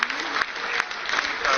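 Scientists at Chandrayaan-3 mission control applaud, a brisk, continuous patter of many hands clapping close by, with voices mixed in.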